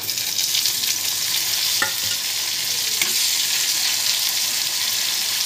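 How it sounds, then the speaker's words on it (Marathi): Tomatoes go into onions frying in a hot pan, a loud, steady sizzle with a couple of faint scrapes, and no talking. "थोडंसं मीठ टाकते म्हणजे कांदा पटकन भाजतो. लाल झालेला आहे. आता आपण टोमॅटो टाकू."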